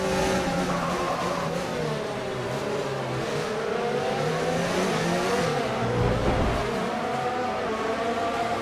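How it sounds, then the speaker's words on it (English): Formula 1 car engines race at Interlagos in the F1 2019 video game, giving a sustained high-pitched whine that rises and falls with gear changes, loud and continuous with no voices. "Oof, bit of oversteer there as I tried to get the momentum and get the run on Magnussen down at Interlagos"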